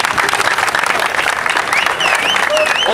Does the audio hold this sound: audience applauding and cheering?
yes